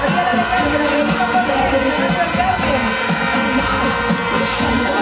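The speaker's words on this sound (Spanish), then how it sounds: "Fuerte el aplauso para Gabriela Alejandra de Lima" Audience at a carnival contest applauding and cheering loudly and steadily, a dense crowd roar with whoops and shouts running through the whole stretch.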